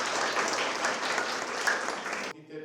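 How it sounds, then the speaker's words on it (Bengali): Loud applause from a gathered crowd at a Christmas celebration, steady dense clapping that continues for over two seconds and then cuts off abruptly, leaving a faint tail. "আমরা বিশ্ব মহোদয়কে এবং একে অপরের জন্য একবার জোরে হাততালি দিই"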